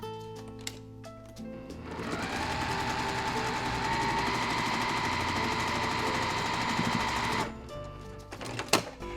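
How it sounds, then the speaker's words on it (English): A sewing machine stitches quilt pieces in one steady, fast mechanical run lasting several seconds, with a few quieter clicks and handling sounds before and after. "And we're again going to stitch from the edge to the triangle."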